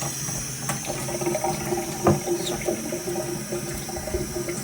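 Alkaline water runs from the hose of a water ionizer machine, making a steady close trickle and splash that continues without break.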